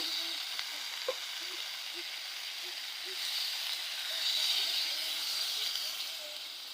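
Quiet sizzling and hissing from a pan of cooked-down taro stolon curry as water is added, with a small clatter early on and the hiss swelling briefly midway.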